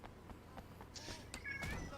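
A cat meows a few times indoors, with short separate calls and a louder, clearer meow toward the end over faint background noise.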